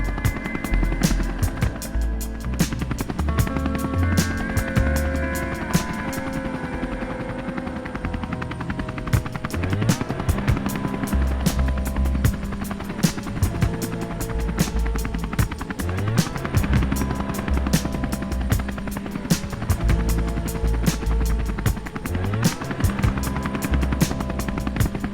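Helicopter flying from Maui across the Pacific channel to Molokai, a steady loud rotor and engine drone running continuously throughout with rhythmic blade chop, no voices.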